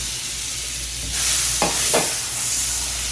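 Butter melting in a pan for cooking shrimp, crab and oysters: a soft, steady sizzle with a brief louder hiss and two quick scraping stirs, close up and without voices.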